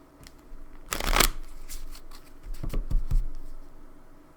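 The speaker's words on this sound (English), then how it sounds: "I've shuffled a few times already, but I'll do one more." Tarot cards are shuffled in a few quick riffling bursts, close and crisp, separated by soft handling sounds.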